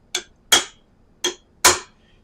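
A ball-peen hammer taps the metal transmission governor on a 1955 Chevy pickup with a 4L60 transmission: four sharp, close metallic knocks in two pairs, each dying away quickly, with no talking.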